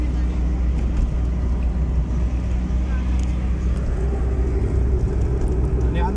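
A car engine pulls steadily in third gear on a hill road leading toward a motorway near Murree, a constant low rumble with road noise that stays loud and unbroken throughout.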